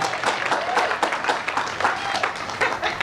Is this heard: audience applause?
yes